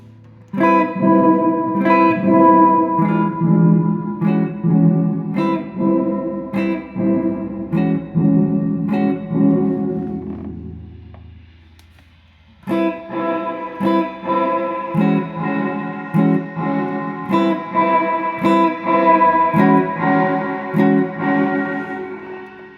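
An electric guitar through a Black Lodge reverb and delay pedal with the reverb fed back in plays a picked melodic phrase soaked in lush reverb and echo, notes ringing and smearing together, with a brief pause before it resumes.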